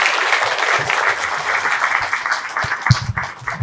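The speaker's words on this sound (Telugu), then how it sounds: "మేడంని గట్టిగా చప్పట్లతో వేదిక మీదకి ఆహ్వానించుకుందాం" A crowd applauds steadily to welcome a woman guest from Kurnool onto the stage at a youth motivational talk, the clapping dense and sustained throughout with a few sharper claps near the end.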